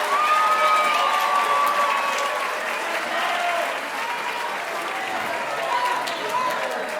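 Applause from an audience at a middle school awards night for a group of students, dense steady clapping with a few cheers and whoops rising from the crowd.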